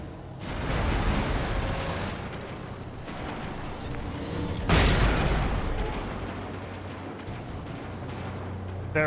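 Flashbang explosions in Alan Wake Remastered, a dense rumbling wash of blasts with one sharp, bright burst near the middle standing above the steady roar, then fading to a lower sustained rumble.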